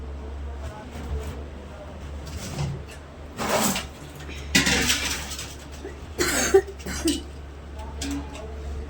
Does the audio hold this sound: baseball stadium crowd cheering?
no